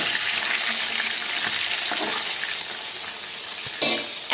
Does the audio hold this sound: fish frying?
yes